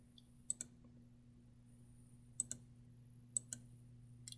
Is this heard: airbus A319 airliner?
no